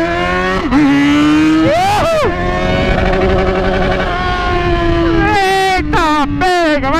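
Yamaha XJ6 motorcycle revving hard alongside a BMW M4, loud rising and falling engine pitches with sharp throttle blips and sweeping gear changes, close by, with voices talking over it.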